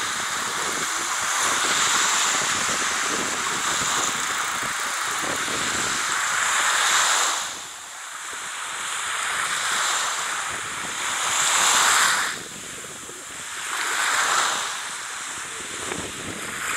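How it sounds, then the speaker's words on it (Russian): Sea waves roll in and wash over the shore at Anapa, Russia, in slow surges, with steady wind noise hissing across the microphone throughout. "Это кусочек сегодняшнего Анапского моря."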